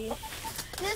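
Chickens cluck in short, scattered calls close by, with a person's voice mixed in faintly among them.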